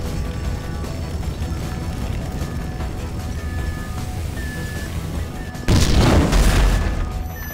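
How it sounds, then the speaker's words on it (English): Video game explosion in GTA V during a heist raid, a heavy deep boom erupting suddenly after a stretch of low rumbling game noise and fading slowly. "That explosion must have knocked me out"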